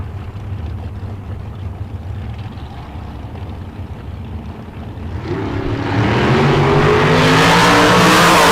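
A flame dragster in a bracket race on a drag strip: a low engine rumble builds into a loud, rising roar that fills the last few seconds, with no voices over it.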